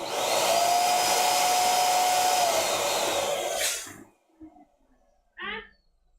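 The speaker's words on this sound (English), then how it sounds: "pull the neck down as much as you can onto your nozzle, and then it'll just kind of inflate for you" An electric balloon inflator blows steadily into a double stuffed balloon, a loud continuous whir with a shifting tone that stops abruptly, followed by a few faint handling noises and a short rustle.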